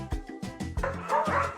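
A dog yips and barks in a quick series of short, close calls with a whimpering edge, heard alone without any talk.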